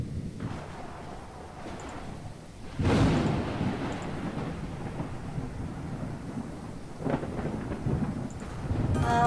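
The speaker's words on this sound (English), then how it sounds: "I hate thunderstorms." Stormy weather in the video game Max: An Autistic Journey: continuous rain and rumble, with a loud thunderclap bursting in near the three-second mark and a second, softer crack later, no talking.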